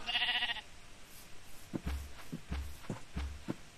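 A sheep bleats briefly in the Minecraft video game, a short wavering cry at the start, followed by soft repeated low thumping sounds.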